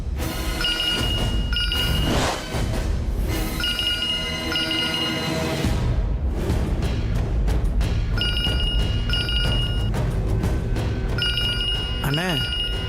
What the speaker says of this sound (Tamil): என்னண்ணே ஃபோன் அடிக்குது, எடுத்து பேசல?